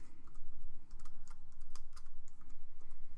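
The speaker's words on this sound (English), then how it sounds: "This is how we type." Quick one-handed typing on a computer keyboard, a close, rapid patter of key clicks running steadily the whole time with no voices.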